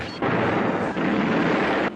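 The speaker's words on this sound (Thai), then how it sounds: "เครื่องบินที่มาถึงก็ระเบิดขึ้นมา" A massive, sustained roaring blast of an airplane exploding fills the air, loud and dense, with a brief dip midway before the rumble continues and cuts off.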